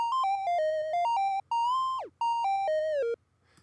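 A simple synthesized chiptune melody: bright, buzzy electronic notes stepping up and down in a short phrase, with one note sliding downward, then silence.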